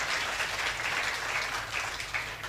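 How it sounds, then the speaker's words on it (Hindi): A crowd at an open-air kavi sammelan poetry gathering claps together in a dense, steady burst of applause lasting a couple of seconds, with no pauses. "तालियां होनी चाहिए इस बात पे।"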